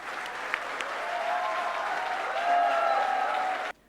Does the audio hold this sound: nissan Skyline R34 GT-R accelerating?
no